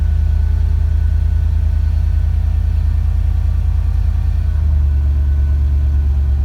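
A 1964 Mercury hot rod with Holley Sniper EFI and a big high-rise air filter idles after a cold start, a loud, steady low rumble with a slight shift in pitch near the end.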